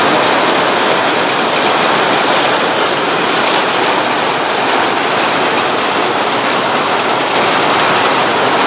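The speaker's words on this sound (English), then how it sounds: "I hope this is a fast rain." Heavy rain pours down on a farm, heard from inside a goat shelter: a dense, loud, unbroken hiss of drops that holds steady throughout, with no voices.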